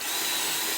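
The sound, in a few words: drilling with a drill bit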